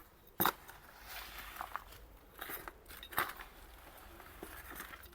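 Cow dung, ash and bone meal fertilizer being mixed together by hand, giving a gritty scrape and scattered rustling with a sharp knock at the start, close and moderate in level.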